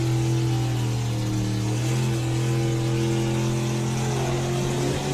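A BMW race car engine revs hard and accelerates at a motorsport event, a loud, close, sustained mid-pitched drone with harmonics that rise and shift as it pulls away.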